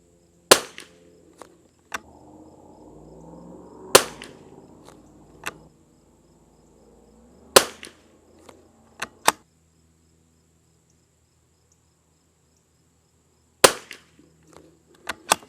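A Lithgow LA101 and a CZ 455 rimfire rifle with a Walther barrel fire Lapua Midas+ ammunition: several sharp, close cracks at irregular intervals, with quiet pauses and small clicks between the shots.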